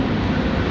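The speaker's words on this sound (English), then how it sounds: "So the Cessna citation getting back underway here after the emergency landing" A Cessna Citation jet rolls out again after an emergency landing caused by a right landing gear concern, its engines giving a loud, steady, continuous roar at an airport with no pause or change.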